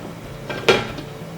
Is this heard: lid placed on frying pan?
yes